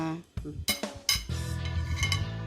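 A metal spoon scoops dipping sauce beside a Thai jim jum hotpot of tilapia, vegetables and mushrooms, making a few close clinks and scrapes against dishes over a steady low bubbling hum.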